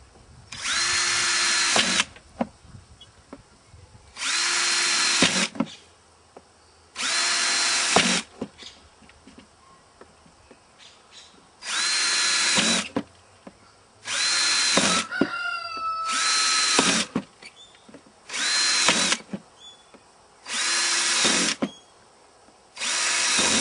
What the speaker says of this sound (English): And we just drill about a dozen holes in each one.